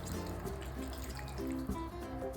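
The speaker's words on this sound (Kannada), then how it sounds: "ಚಿಕನ್ ಬೇಯೋದಕ್ಕೆ ನಾನು ಇಲ್ಲೊಂದು ಅರ್ಧ ಗ್ಲಾಸ್ ಅಷ್ಟು ಮಾತ್ರ ನೀರು ಹಾಕ್ಕೊಳ್ತಾ ಇದ್ದೀನಿ." Half a glass of water poured into a pan of chilli chicken, a steady liquid trickle with faint dripping running through the whole stretch.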